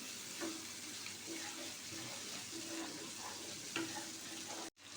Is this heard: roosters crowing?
no